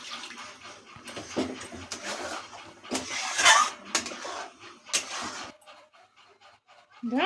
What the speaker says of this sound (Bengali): এবার জল ঢেলে দিলাম